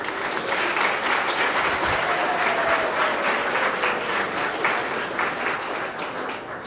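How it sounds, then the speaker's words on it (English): Steady, dense audience applause for award winners at a city celebration fills the whole stretch at an even, loud level, a broad wash of many hands clapping together. "another great round of applause"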